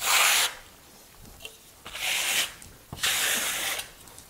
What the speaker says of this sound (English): take the excess off the trowel, and I'm just gonna come through